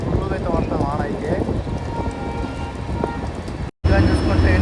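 Heavy rain hisses steadily around a moving Goa Express train between Bengaluru and Goa. It makes a dense, continuous wash over rumbling carriage noise, and a brief dropout cuts in near the end.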